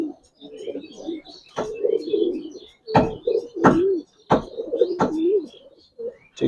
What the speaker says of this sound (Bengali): এই মাদি কবুতরটা